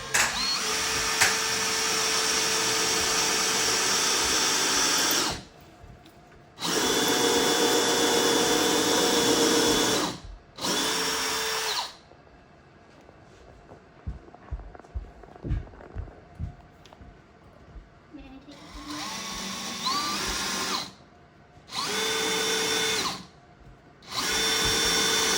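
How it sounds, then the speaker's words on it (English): A power drill pre-drills holes in a hallway wall, several loud whirring bursts of a few seconds each separated by quieter gaps with faint handling clicks. "we'll countersink drill them and then impact drill the screws in"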